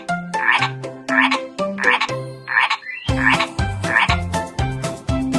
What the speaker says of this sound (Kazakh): Дұрыс, бұл бақа.